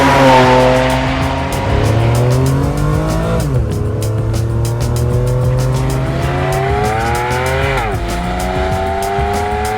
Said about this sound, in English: a long-nosed, short-tailed Ferrari Grand Tourer with the big V12 up front